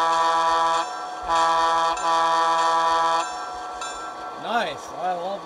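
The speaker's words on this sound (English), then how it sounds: "Let's take a listen to the horn." A model train locomotive's horn sounds in several sustained blasts, chord-like and loud, followed by a brief voice at the end.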